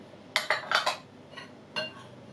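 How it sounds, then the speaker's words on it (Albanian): Dry cookie ingredients, including baking powder, soda, salt and vanilla, are stirred together in a bowl, giving a few sharp clinks and scrapes of a utensil against the dish, loud and close, with a brief pause between strokes. "Përzihen të gjithë përbërësit e thatë në një vend."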